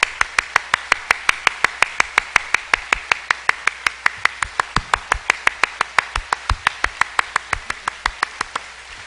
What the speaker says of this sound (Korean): 우리 뜨겁게 15초 박수.